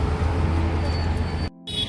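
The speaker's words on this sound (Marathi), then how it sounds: "हळूहळू हळूहळू गाड्या चालल्या आहे पुढं." Autorickshaws queued in a long line at an LPG gas pump in Nashik, a steady low idling traffic rumble that briefly drops out near the end.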